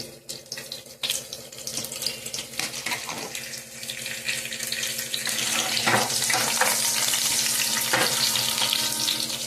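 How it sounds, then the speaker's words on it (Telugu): Cumin, mustard seeds, urad dal, chana dal and chillies for a tempering fry in hot oil, a steady crackling sizzle that swells louder partway through, close up with no talk. "జీలకర్ర తర్వాత ఇగోండి తాలింపు గింజలు ఇవన్నీ ఆవాలు మినపప్పు శనగపప్పు అన్నీ కలిపి ఇగోండి మిర్చి"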